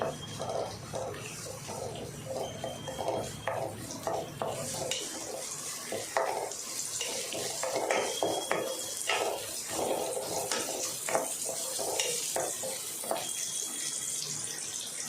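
Onions and dried chilies sauté in oil in a pan for Tamil keerai poriyal, a steady sizzle punctuated by repeated clattering spatula stirs and scrapes against the pan.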